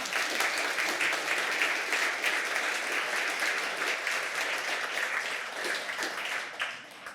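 Sustained audience applause fills the room at an annual cycling advocacy dinner in Connecticut, a dense, steady wash of many hands clapping that thins slightly toward the end, with a faint voice underneath.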